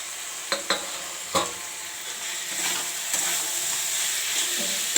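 Fried cauliflower and potato tipped into a hot pan of curry with katla fish, giving a few quick clatters and then a steady close sizzle and hiss with stirring.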